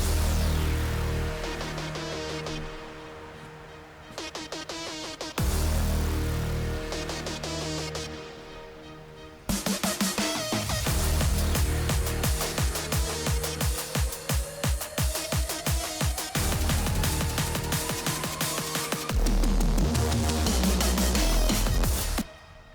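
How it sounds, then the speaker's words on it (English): Neurofunk drum and bass build-up in the style of Muzz: dense layered synths and pounding drums, a steadily rising riser sweep through the middle, laser zaps and stuttering hits driving toward the drop, loud and continuous with brief breaks. "If you put all of that together, the build-up sounds like this."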